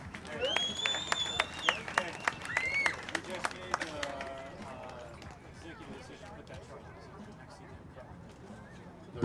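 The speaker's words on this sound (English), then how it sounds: "Eric, round of applause." Audience applause with whistles and cheers at a live truck show stage in Texas, greeting a 1966 Chevy C10 pickup's award; it starts fairly loud with sharp whistles, then fades to a quieter crowd murmur.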